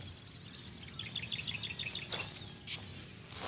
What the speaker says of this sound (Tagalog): may mga ibon pa